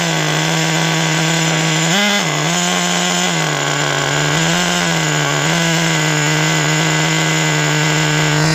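A rebuilt Traxxas Nitro 4-Tec 3.3 nitro RC car engine revs loudly and continuously, its buzzing whine rising in a few short blips of throttle before settling back to a steady high-pitched drone.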